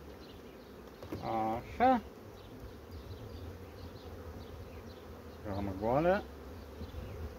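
Honey bees buzz around an open beehive frame during apiary work, a steady low hum with two closer, louder swells as bees pass by, while someone speaks briefly.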